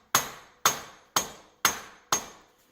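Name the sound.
rubber mallet tapping on a wheel bearing joint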